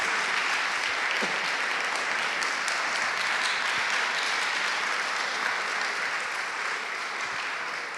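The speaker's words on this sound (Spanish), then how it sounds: "Un gran aplauso a los 3 expositores." Sustained applause from an audience at the close of a pastoral forum day for three presenters, steady and dense throughout with no voices standing out.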